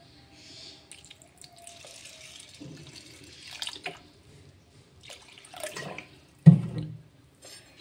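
Water is poured onto washed mung dal in a pot for boiling, with scattered soft splashes and trickles among quiet stretches and one louder splash near the end, close by.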